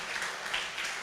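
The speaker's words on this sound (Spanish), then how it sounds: "dale un aplauso al Señor" A church congregation applauding, a steady wash of many hands clapping, moderately loud and sustained for a brief moment.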